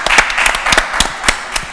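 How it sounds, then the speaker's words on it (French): Audience applause from a small group, a short burst of irregular, close hand claps at steady loudness. "Moi, je l'applaudis"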